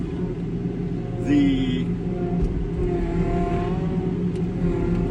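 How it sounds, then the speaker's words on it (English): A JCB 215T tracked skid steer engine idles with a steady low rumble and a faint whir, running continuously nearby while someone talks over it. "I find I love this machine, this JCB 215T skid steer, track skid steer."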